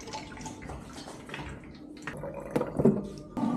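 Water pours into a large basin at home, a steady splashing fill with soft drips that grows louder and more sloshing toward the end, close and alone with no talking.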